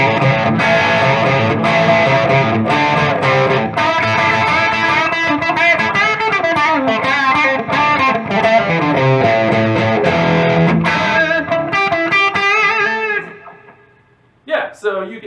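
A distorted electric guitar, a 1991 Les Paul on its Seymour Duncan Pearly Gates bridge pickup, plays strummed chords and riffs loudly with a crunchy, bright tone, then rings out and fades near the end.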